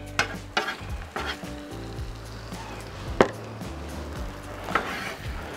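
Eggs for a chorizo breakfast burrito sizzle loudly on a Blackstone griddle. Sharp scrapes and taps from a spatula pushing the eggs together cut through the constant frying hiss, with no talking.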